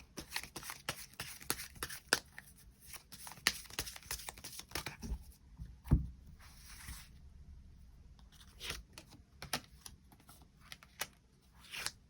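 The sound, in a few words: tarot cards being drawn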